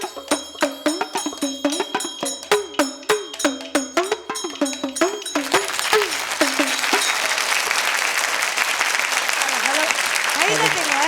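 A crowd at an annual-day villupattu performance about the birth of Sri Rama claps, first in sharp rhythmic beats with the singing and then breaking into dense sustained applause, loud and close, with voices beneath.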